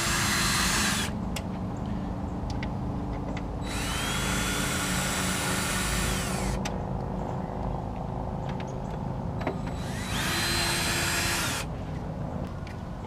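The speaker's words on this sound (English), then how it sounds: "T15 is going to take the headlight out." A power driver fitted with a T15 bit removes the screws holding a headlight on a JK Wrangler, giving three loud whirring bursts of a few seconds each, separated by pauses, close up with no speech.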